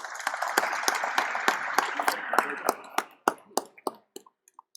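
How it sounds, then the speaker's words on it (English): Applause from an audience at a bid competition event, a dense patter of clapping that thins out into a few scattered individual claps before fading. "Can we give them a round of applause, please?"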